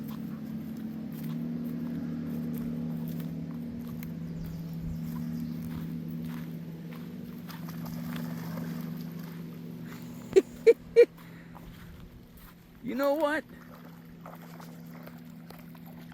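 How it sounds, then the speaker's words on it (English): A boat heads out across a lake near a boat ramp, its motor a faint, steady low hum that fades slowly, with a few sharp clicks and a brief spoken phrase near the end. "There goes the boat."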